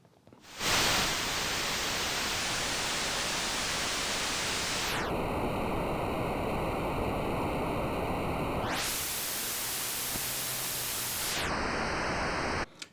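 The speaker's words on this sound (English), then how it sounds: "it just sounds like white noise" Broad white noise produced by a wavetable in Pure Data, a loud continuous hiss that changes tone in sections, with brief high tonal bands layered on top, and no voices.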